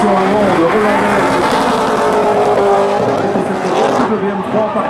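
BMW M3 fitted with a BMW M5 V8 engine drifting at a show, the engine roaring loudly and close with sustained tire squeal and skidding, a commentator talking over it.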